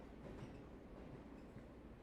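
A metro train rolls along its rails in a steady, low rumble heard from inside a car with hard plastic seats. The sound is faint and continuous, with no voices.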